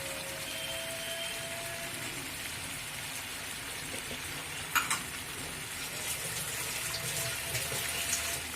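Tomato paste frying with spicy Peshwari chicken in a pan gives a steady, quiet sizzle with faint crackles and a brief sharper clatter midway.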